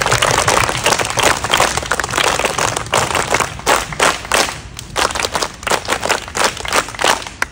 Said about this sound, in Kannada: ಹಾಗೂ ಕೊನೆ ಇನ್ನೊಂದು ಚಪ್ಪಾಳೆ ಮೇಡಮ್ಗೋಸ್ಕರ